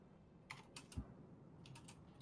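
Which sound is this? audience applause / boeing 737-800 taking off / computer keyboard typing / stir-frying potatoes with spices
computer keyboard typing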